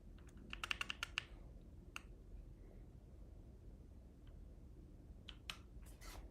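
Typing on a Moonlander split keyboard during a live stream: a quick burst of clicky keystrokes near the start, then scattered single taps and a short cluster near the end, close and fairly quiet over low room hum.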